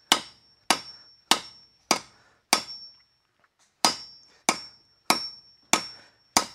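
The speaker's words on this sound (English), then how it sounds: "Just using the edge of the anvil as a fuller" Ten sharp metallic hammer blows on the edge of an anvil used as a fuller to stretch metal, struck at a steady pace with a brief pause midway, close and ringing.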